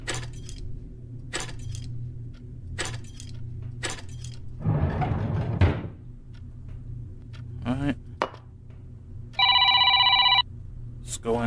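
A telephone rings in a horror video game: one loud, steady electronic ring burst near the end, after a series of sharp footstep-like clicks and a brief rustling clatter.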